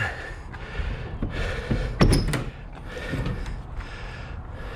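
Side door on the aluminum A.R.E. canopy of a 2003 Ford F150 XL extra cab pickup being opened, with a sharp metallic latch click and rattle midway through, surrounded by outdoor shuffling and handling noises.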